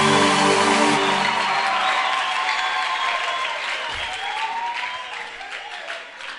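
A church congregation breaks into loud, sustained applause with some cheering, the clapping dense and steady at first and gradually thinning toward the end.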